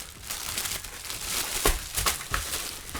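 A wrapped parcel envelope is unpacked up close, its plastic or paper crinkling and rustling in irregular bursts with a few sharper crackles, with no talking.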